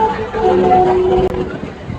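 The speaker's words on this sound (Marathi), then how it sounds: "ट्रेन आली मित्रांनो आमची या आपली ट्रेन" A train pulling in, with a sustained metallic squeal over low rumbling and a faint murmur of people nearby.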